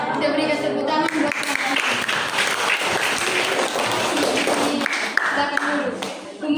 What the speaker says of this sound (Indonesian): Kita berikan tepuk tangan buat